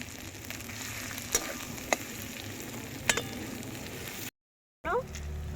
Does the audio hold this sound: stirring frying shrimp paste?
yes